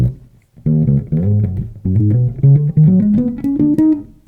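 Solo bass guitar playing the first section of a unison line, a quick run of clear plucked notes climbing steadily in pitch, close and dry with no backing track.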